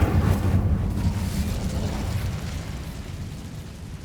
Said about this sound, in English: I really like the fire effect on the spider things.